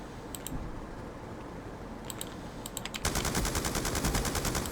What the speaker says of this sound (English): Who the hell is sniping over there?